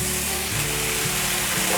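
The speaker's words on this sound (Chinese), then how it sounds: "放入秋葵，" Okra stir-fried in a wok sizzles steadily and loudly, a dense hiss that never lets up, with a faint scrape or two from the tossing.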